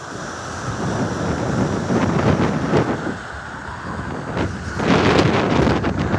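Strong wind buffets the microphone on a warm Algerian beach, a continuous rushing roar with gusty swells and surf-like wash beneath, with no voices.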